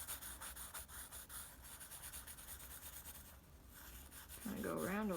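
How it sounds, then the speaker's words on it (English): Pencil rubbing across drawing paper while shading the underside of a hand sketch, a soft steady scratchy rasp in short strokes, near and quiet, with a voice starting to speak at the end. "I'm gonna shade the underside of it."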